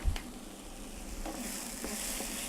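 About a tablespoon of chopped garlic sizzles in a hot pan while it is stirred, a steady close crackling hiss with faint scraping strokes and no voices.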